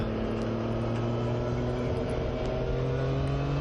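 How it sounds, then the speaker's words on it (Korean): A Triumph Trident 660 motorcycle engine hums steadily, its tone sliding gradually lower as the revs ease off after the throttle is released, heard close and alone. "스로틀을 놓았을 때 천천히 RPM이 내려갑니다"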